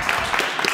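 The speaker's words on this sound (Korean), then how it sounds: "와, 박수, 박수." A short, dense burst of steady applause from the crowd at a Korean fight-challenge show, heard close and continuous for under a second.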